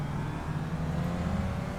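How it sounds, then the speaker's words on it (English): Real car passing outside, a low steady engine rumble resembling a Shelby Cobra, faint and distant, continuing evenly for under two seconds. "Sounds like a Shelby Cobra."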